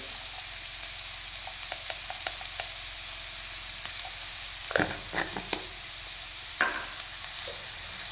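Goat blood cooking in a pan with turmeric, a low sizzle under scattered scraping and clinking stir strokes, with a cluster of louder spoon knocks midway.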